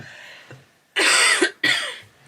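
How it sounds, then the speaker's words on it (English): Two harsh coughs close up, one after the other, preceded by a faint breath. "I'm going to cough"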